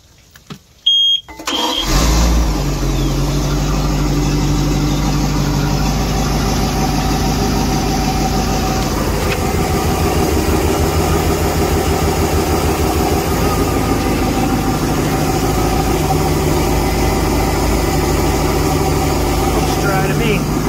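A Volvo Penta marine engine with freshly fitted exhaust manifolds cranks and catches after a brief burst, then settles into a steady, loud idle that runs without a break.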